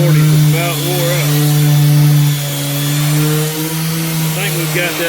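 A power sander with worn 240-grit sandpaper works on the curb-rashed edge of a car wheel, a loud, steady close-up whine that dips and rises in pitch as pressure changes.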